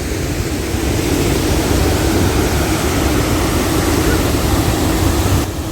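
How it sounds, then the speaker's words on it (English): A waterfall in Québec City roars in a steady, dense wash of rushing water, loud and close, continuous without a break. "This is one of the most beautiful waterfalls I've ever seen."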